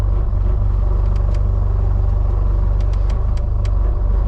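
A sailboat engine revved to charge the alternator holds a loud, steady, close rumble with deep pulsing throb and a few sharp clicks on top.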